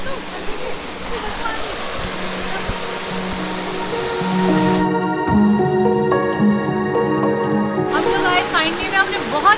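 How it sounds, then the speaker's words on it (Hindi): A rushing mountain stream pours loudly and steadily beside a camp cafe, with people talking and a sustained musical tone over the water noise. "पीछे बहुत शोर है पानी का।"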